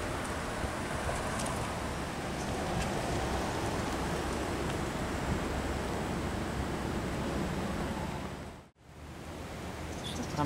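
Heavy rain pours steadily during a bus journey toward Java, a dense broadband hiss that stays loud and even throughout, breaking off briefly near the end before resuming.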